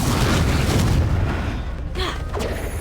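Confringo spell blast in the video game Hogwarts Legacy, a loud deep boom that rumbles and fades over a couple of seconds, followed by a brief softer crackle.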